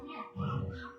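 A dog gives a short bark followed by a whimpering yip, close and fairly loud, with no talk over it.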